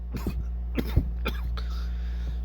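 A person imitates a coughing fit with a few harsh, short coughs in quick succession.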